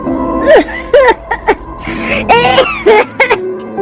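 A man coughs from dust, clearing his throat in several harsh, strained bursts, close and loud, with wheezy gasps between them.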